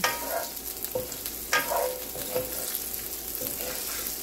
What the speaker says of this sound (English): let's add our onion to this. And we're just going to cook it down just a little bit.